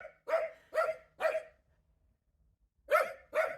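A dog near a guesthouse up the hill from the town of Bran, Romania, barks sharply five times: three evenly spaced barks, a pause, then two more, close and clear.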